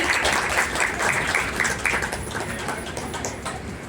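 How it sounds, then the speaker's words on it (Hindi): Applause greets guests at a mass wedding ceremony, a dense, steady crowd clapping that carries on throughout and tapers slightly toward the end. "तालियों से जोरदार स्वागत किया जाए।"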